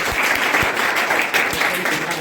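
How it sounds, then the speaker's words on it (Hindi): Brief burst of steady clapping from a class or audience for a student, even and continuous with a few louder thumps. "इसके लिए तालियां बजाओ"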